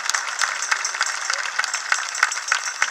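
Applause rings out at a charity carnival party, a crowd clapping steadily with scattered sharper claps standing out, moderately loud and continuous throughout without speech.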